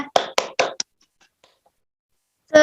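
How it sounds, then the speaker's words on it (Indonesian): Young students in a first-grade classroom clap for a classmate, a short burst of several quick claps that fades into near silence before a voice starts at the end. "Beri tepuk tangan buat Hanifah"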